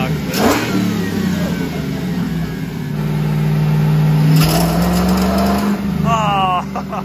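Daily-driver truck running on top fuel nitro revs loudly, its engine note climbing and falling in sweeping pulls over a rough idle, with people talking and shouting around it close by.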